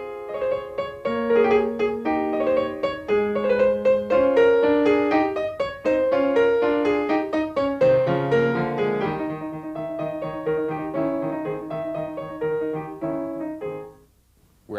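Piano playing the transition passage of a Beethoven sonata, a flowing run of notes that grows fuller and lower midway, then thins and fades out near the end, played alone without speech.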